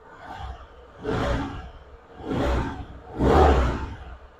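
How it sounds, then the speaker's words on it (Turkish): Arora Freedom 50cc scooter engine revved with short throttle blips, three rising and falling surges over a steady idle, recorded close and fairly loud. "Şöyle bir ufak gaz verelim."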